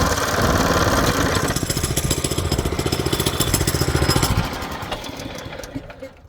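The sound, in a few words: lawn mower engine running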